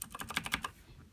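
A Razer Blackwidow mechanical keyboard gives about eight quick, crisp key clicks in a rapid burst, close and clear, then falls quiet.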